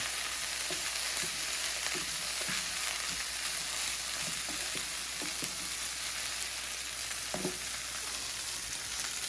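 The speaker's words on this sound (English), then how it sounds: "it's been keeping my potatoes nice and crisped up. They're still cooking" Potatoes and a pork chop frying in a pan for a potato hash, with a steady loud sizzle throughout and a few soft stirring clicks beneath it, up close with no voices.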